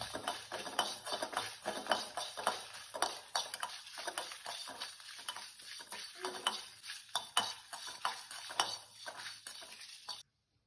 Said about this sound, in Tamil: எண்ணெய் இல்லாமல் வெறுஞ்சட்டியில் வறுத்து வச்சுக்கலாம். மல்லி, சீரகம், வத்தல்